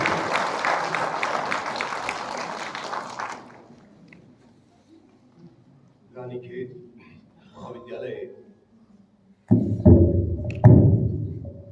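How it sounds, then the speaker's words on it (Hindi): A seminar audience at Government PG College Ranikhet applauds Professor A K Joshi with dense clapping for about three seconds. It then fades out, and someone speaks in short bursts. "तो ऐसे प्रोफेसर ए के जोशी सर के लिए जोरदार तालियां प्लीज सर"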